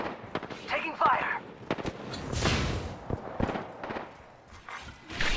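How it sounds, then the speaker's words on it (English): Bursts of gunfire from the video game Apex Legends crack and rattle in quick volleys at moderate loudness, mixed with game voice callouts and other effects. "Taking fire."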